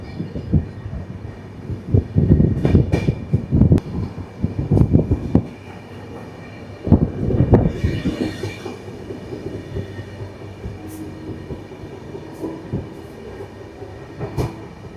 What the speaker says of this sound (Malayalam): അങ്ങനെ ഇവിടെ നിന്നും ട്രെയിൻ എടുത്തു.